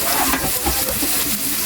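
Garlic and tomato sauté in a pan, a steady dense sizzle with occasional stirring scrapes throughout, close and fairly loud, with no talking.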